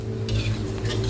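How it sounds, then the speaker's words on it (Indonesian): Spoon scraping and stirring a thick shrimp-shell spice paste with ground pepper and salt in a pan, a few close metallic scrapes over a steady low hum. "Aduk sampai rata."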